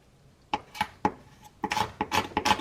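A Victorinox Swiss Army knife with wooden scales scrapes along a hard twig in a series of short, close rasping strokes, sparse at first and then quicker and denser.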